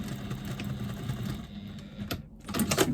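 A sewing machine re-stitches a seam in short bursts, with a close rattling whir that stops briefly and then starts again louder near the end, with no talk over it.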